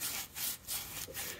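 A brush scrubbing a Michelin Pilot Sport 4S tyre on a BMW M4 CS, quick back-and-forth bristle scrubbing strokes, close and steady, roughly three strokes in under two seconds.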